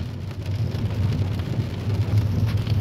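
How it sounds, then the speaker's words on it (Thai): Steady rain falls on a street in Kreuztal, Germany, a dense continuous hiss with low rumble, loud and close, with no talking. "ฝนตกพี่น้อง"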